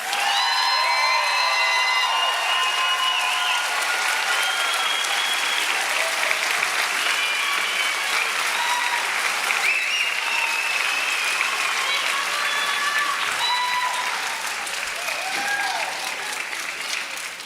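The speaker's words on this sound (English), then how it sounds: "Let's give our graduates another round of applause." Large crowd applauding graduates at a 2023 community college commencement in Oklahoma City, with some cheering; dense, steady clapping that holds for the whole stretch and eases slightly near the end.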